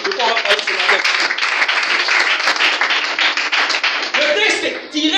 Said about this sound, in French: Acclame Jésus, maintenant si tu comprends